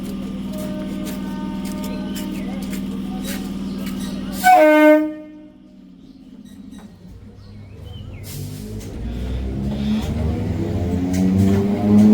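Steady rumbling train noise with a brief loud horn-like blast midway, a short lull, then the rumble builds again as the train moves on.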